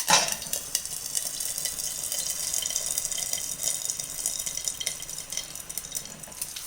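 Steady, dense sizzling and crackling of curry leaves frying in hot oil after mustard seeds have popped, continuous and close, with no voices.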